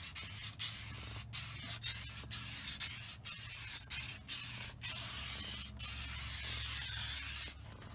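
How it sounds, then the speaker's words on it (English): Adhesion promoter prep spray hisses from an aerosol can onto a plastic car dashboard in a string of short, sharp bursts, close and fairly quiet over a low steady hum, with no talking. "now we'll spray on our prep spray."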